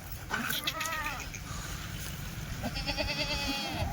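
Kathiawari goats bleat in wavering, nasal calls, one near the start and another later, over a rumbling outdoor background.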